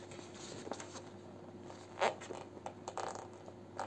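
A sticker being peeled off, with soft crackling and ripping bursts, quiet and close, including one slightly louder tearing moment.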